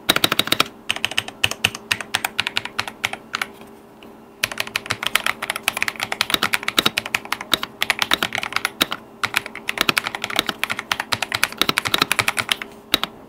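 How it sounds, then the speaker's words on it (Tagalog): Fast, continuous clacking of a Red Magic mechanical gaming keyboard, loud and close, with dense keystroke runs broken by a couple of short pauses; no speech. "ito guys yung tunog ng Red Magic Mechanical Gaming Keyboard kapag nagtatype"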